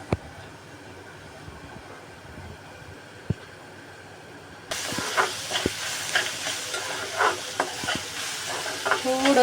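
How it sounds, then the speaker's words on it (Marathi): Food frying in a pan, quiet with scattered clinks at first, then a lid lifts and a loud steady sizzle takes over, broken by repeated scrapes and knocks of stirring. "थोडंसं हलवते, थोडं फ्राय होण्यासाठी."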